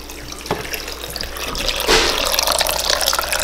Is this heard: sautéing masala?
no